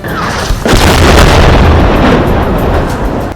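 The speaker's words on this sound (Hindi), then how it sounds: "इजराइल की फौज ने जो बम गिराया वो उस होटल के बेहद करीब गिरा, जिसके बाद वहां इतना जोरदार धमाका हुआ कि पूरा इलाका कांप उठा" A bomb dropped near a hotel in Gaza explodes with a sudden, very loud blast, followed by a sustained deep rumbling roar that fills the rest of the moment and slowly fades.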